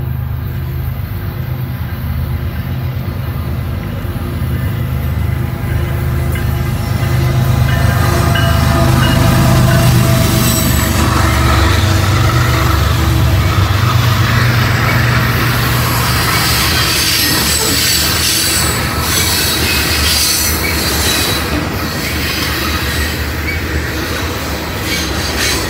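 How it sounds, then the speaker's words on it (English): A long mixed manifest freight train rolls steadily past on the old B&O line, close and loud, with a constant rumble, rhythmic clatter of wheels over rail joints and occasional metallic squeals. "This looks like this could be maybe a unit grain train."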